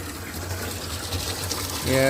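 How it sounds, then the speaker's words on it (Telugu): Water gushes steadily into drums, a continuous rushing splash with voices talking over it and a brief tonal hum near the end. "డ్రమ్ములకు వాటర్ పట్టేస్తున్నాం శుభ్రంగా అండి"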